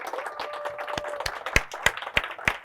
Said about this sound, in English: can we just give everyone, these three, an applause,